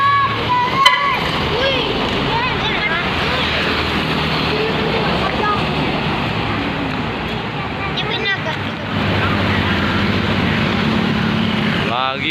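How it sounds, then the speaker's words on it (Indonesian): A truck passes on a busy Indonesian roadside, a sustained heavy engine roar with hissing tire noise close by, under a person talking. "Melintas 1 unit truk."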